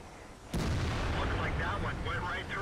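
Main cannon of an E-75 Tier 9 heavy tank firing in World of Tanks, one sudden loud blast followed by a sustained rumbling decay, with someone talking over it.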